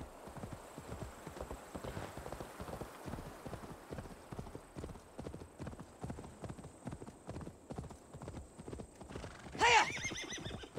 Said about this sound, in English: It's a horse I can steal.